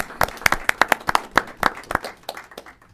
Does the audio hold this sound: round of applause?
yes